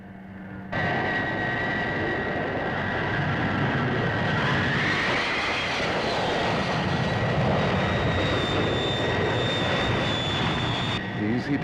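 A Thunderbird aircraft with flaps down banks on final approach to land, its engine a steady loud roar with a rising whine, continuous for the whole stretch after a brief quiet start.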